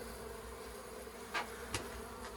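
A bee swarm in an old house gives off a steady, close insect hum, with a few brief louder buzzes as individual bees pass near, and no voices.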